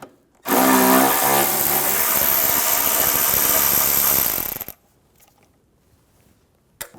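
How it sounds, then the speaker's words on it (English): A powered ratchet with a 10mm socket whirs steadily for about four seconds, removing a bolt on a 2009-2013 BMW 328i xDrive during headlight washer pump work. It then stops abruptly, and a short click follows. "Take this bolt out, use a 10mm socket."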